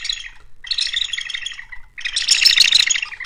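A small handheld toy shaker imitating a canary gives loud, close, raspy chirping bursts in three rapid squawking runs, the last one longest and most intense, with no voices.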